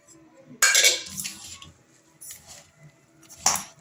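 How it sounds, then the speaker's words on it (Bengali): A spoon stirs chicken pakora batter with cabbage, tomato, ground coriander, cumin, chili, turmeric and salt in a bowl, giving a few sharp bursts of clinking and scraping with quiet gaps between them. "দিয়ে ভালো করে মিক্সড করে নেব।"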